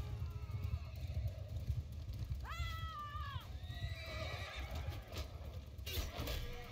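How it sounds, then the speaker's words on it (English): A horse in the video game Mount & Blade II: Bannerlord gives a clear, rising-and-falling neigh midway, over rumbling battle ambience and faint hoof clatter, followed by a softer whinny. "There's his horse."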